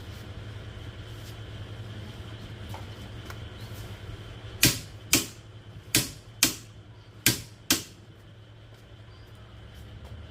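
Six sharp, loud impacts from a Dongcheng DCPB488 cordless brushless impact wrench set to 600 Nm, arriving in close pairs over a steady low hum, each one a hard broadband crack that decays quickly.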